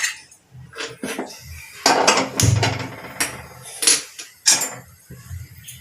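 Ingredients for a dry okra (bhindi) dish are pounded in a kitchen, with loud, uneven, close thuds and clanks of metal repeating across the whole stretch.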